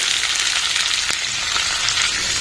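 Chopped onions hiss and crackle in hot oil with already-fried tempering seeds for an eggplant and raw coconut curry, a dense, even sizzle that stays loud and close throughout, with no talking.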